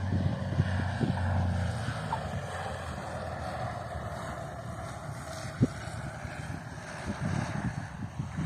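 A small propeller airplane arriving at an island airfield in the East Frisian Islands, coming in from Harle, heard as a steady low engine drone that holds evenly throughout, with no voices.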